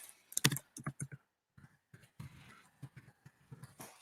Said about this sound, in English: I'll type that in.